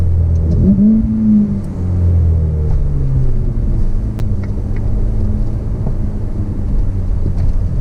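A Ferrari F8 Spider in sport mode drops a gear, its engine rumbling and briefly rising in revs under steady wind buffeting, heard from inside the moving car with no talk.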